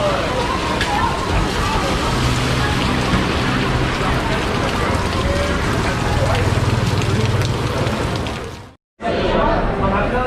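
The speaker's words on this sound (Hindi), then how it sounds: "ये देखें बहुत ज़्यादा तेज़ बारिश हो रही है बाहर।" Very heavy rain pours down outside in Phuket, Thailand, a loud, dense, steady roar that fills the whole stretch and drops out only for a brief moment near the end.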